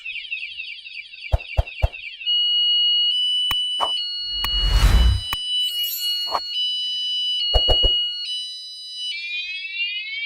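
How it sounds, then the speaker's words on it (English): A loud electronic catalytic converter theft alarm cycles through shifting siren tones, warbles and steady beeps, with a few sharp clicks and a brief burst of noise. "it's making all kinds of alarm sounds."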